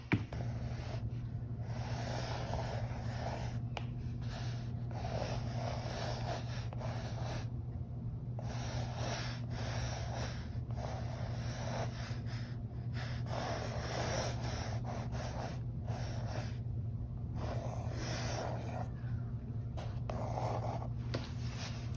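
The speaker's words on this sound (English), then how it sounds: "take a pen and write over top of it so that it transfers onto your pumpkin" A pen scratches steadily over a transfer sheet laid on a pumpkin, a soft continuous rubbing and scraping with brief pauses between strokes, close and quiet against a low background hum.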